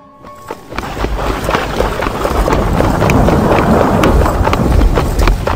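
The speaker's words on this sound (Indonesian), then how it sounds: "sayup-sayup aku mendengar suara langkah kaki kuda" Horse hooves clop in a steady repeating rhythm over a dense wash of heavy rain noise, the hoofbeats moderately loud and continuing throughout.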